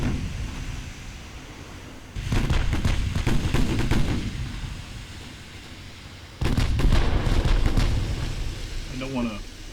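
Warship guns fire high-explosive shells in the naval strategy game Ultimate Admiral Dreadnoughts, two heavy booming salvos several seconds apart, each rolling out into a long rumble, with someone talking over the battle.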